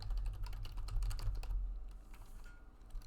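Typing on a computer keyboard, a quick close run of light key clicks that thins out into a few scattered taps, fairly quiet.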